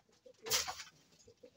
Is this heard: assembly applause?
no